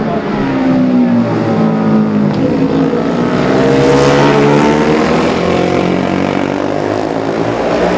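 Racing motorcycles, a Honda and an Aermacchi, scream past on the Classic TT road course, their engines loud and sustained with a shifting pitch as the machines sweep by one after another.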